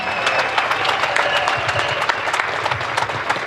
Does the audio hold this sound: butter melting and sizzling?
no